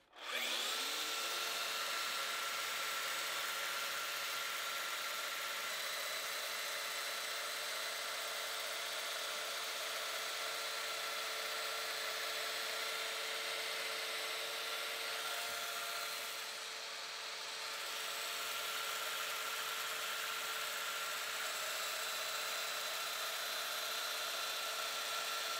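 Domino joiner running steadily while cutting tenon mortises into wooden door rails, a continuous high motor whine with a rough cutting buzz that dips briefly near the end, close and loud with no talk.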